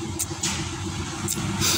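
A motorcycle engine with a flooding carburetor turns over and runs close by, a rough mid-pitched rumble with a few sharp bursts as it catches.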